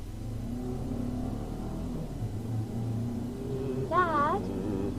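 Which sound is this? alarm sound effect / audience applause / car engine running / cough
car engine running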